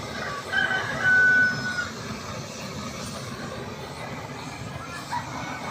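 A rooster crows once in a short, fairly faint call over outdoor background noise, with other farm fowl clucking nearby.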